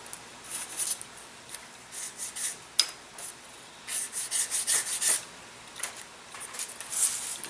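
Laser burr marks are sanded off small parts for an Evo Fire model airplane fuselage. The result is a series of close, quick scraping and rubbing strokes in uneven bursts, with short pauses between them.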